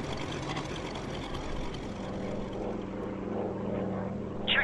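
Steady droning roar of a WWII propeller warplane diving on a target in the Air Conflicts Pacific Carriers game, a continuous engine hum with a brief bright whine near the end, no talking.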